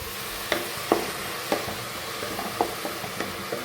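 Chopped onions frying in a pan with salt for a chicken curry, a steady sizzle broken by several sharp scraping stirs at irregular intervals, close up with no talking.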